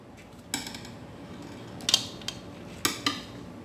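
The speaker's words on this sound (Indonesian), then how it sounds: "Kita aduk-aduk." Utensils stirring a diet salad in a bowl, giving a few scattered clinks and scrapes against the dish, fairly quiet and close, with soft background hiss between the strikes.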